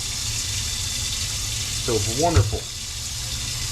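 Running faucet water rinsing cannonball jellyfish in a sink, a steady hissing stream throughout, with a person speaking briefly over it.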